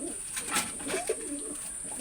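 Quiet, low coos from breeding Pakistani Prince Kamager pigeons rise and fall, with a steady high-pitched whine and soft hiss behind them.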